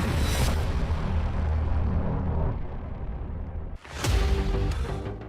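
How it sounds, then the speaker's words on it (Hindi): An anti-tank missile strikes an Israeli Merkava tank near the Lebanon border. A loud, continuous rumbling blast roar fills the clip, briefly drops away, then surges again with a fresh burst. "मिसाइल टैंक की तरफ बहुत तेजी से बढ़ती है और इजराइल के मरकावा में बहुत बड़ा धमाका होता है"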